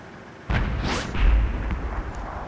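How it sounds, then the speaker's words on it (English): Artillery fire in the World of Tanks video game, a heavy booming blast with a long rumbling tail and a whooshing shell sound, loud and close. "the artillery unfortunately misses"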